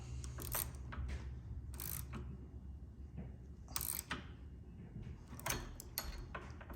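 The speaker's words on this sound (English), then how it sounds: "I'm still using the number 11 wrench to tighten everything down." Metal wrench clicks and ratchet-like turning on a 2016 Harley-Davidson, snugging down bolts on Kuryakyn floorboard relocation extension brackets with a number 11 wrench; close, intermittent bursts of clicking with pauses between turns.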